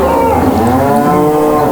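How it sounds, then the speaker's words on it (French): A cow lets out one long, loud moo up close, a sustained low bellow that fills the whole moment with no voices over it. "je ramène la vache à l'étable."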